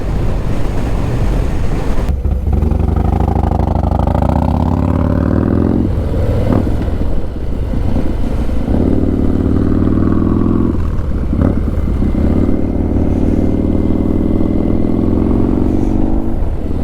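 A 2022 Harley-Davidson Low Rider S motorcycle rumbles steadily while riding around town, its low engine drone rising and falling through several gear pulls, heavy wind buffeting throughout and no talking.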